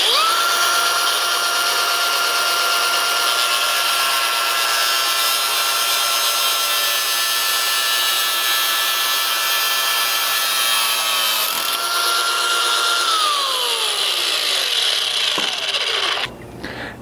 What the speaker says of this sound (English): grabbed our grinder with a cutoff disc, and we're basically just following our line straight across here